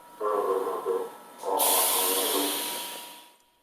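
A Busan subway Line 2 train powers up from rest, with hissing air bursts and a rising electric whine building to a loud, sustained rush of compressed air that tapers away, close by and without voices.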